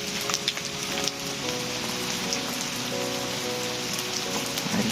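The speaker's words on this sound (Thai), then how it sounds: "ฝนตกใส่ครับ" Steady rain falls outdoors during a snakehead fishing outing, a dense, even patter on surfaces close by that continues throughout with no talking.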